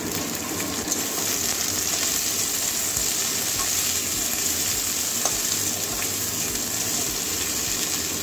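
Potatoes and egg fry in a pan, giving a steady, close sizzle with faint crackles and light stirring throughout, with no talking.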